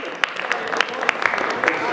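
Scattered clapping from an audience at a storytelling event voting for a story, with individual sharp claps standing out from a light, uneven patter.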